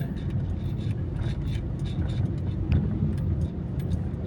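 Dense car traffic rumbles steadily on a busy road in Balara, a constant low drone of engines with faint higher clatter, heard from close by and under quiet background voices.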